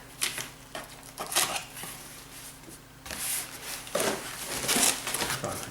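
A record shop unboxing package being opened, with close, crinkly rustling and crushing of packing material in irregular bursts.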